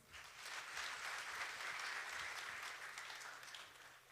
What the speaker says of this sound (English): May we kindly give ourselves a round of applause